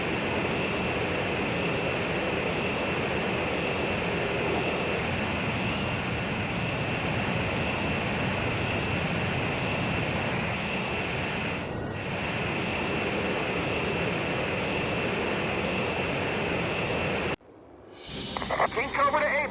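Jet aircraft in flight during aerial refueling in Ace Combat 5, a steady broad roar with a constant high whine running almost unbroken, then cutting out abruptly near the end before a brief rising burst.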